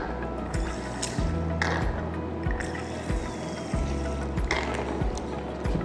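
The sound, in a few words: pouring distilled water into a beaker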